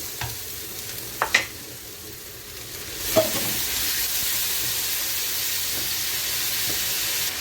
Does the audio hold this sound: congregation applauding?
no